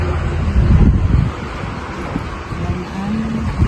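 Strong wind gusts across an open field scorched by a land fire, roaring and rumbling against the microphone in uneven surges, loudest near the start.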